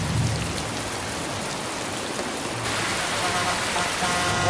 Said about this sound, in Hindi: कितनी बारिश है